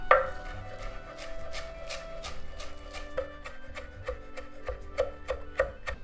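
A knife chops a fresh garden tomato on a board, a quick series of sharp taps that speeds into a steady rhythm, close and clear with no talking.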